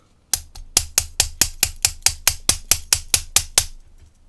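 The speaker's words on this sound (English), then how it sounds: "I do actually have another hammer, which is also very, very handy, which is a rubber mallet." A rubber mallet taps pins out of an IFAM WX1000 16-pin tri-axis lock, about fifteen sharp, evenly spaced knocks in a steady rhythm, close and loud with no talking.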